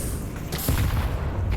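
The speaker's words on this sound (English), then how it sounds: "Deploying flashbang. Grenade out." A flashbang grenade goes off in a video game, a sudden sharp burst with a rumbling low tail, heard over steady background noise and followed by a softer echoing thud.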